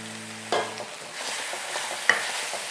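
Rice with fried cauliflower and poured-in soy and red chilli sauces is stirred in a hot pan: a steady hiss of frying with a couple of sharper scraping strokes of the spoon, close and without speech.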